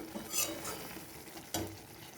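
Tomatoes for pickle are stirred in a hot pan, giving a faint, brief scrape and soft sizzle with a couple of quiet clinks close by.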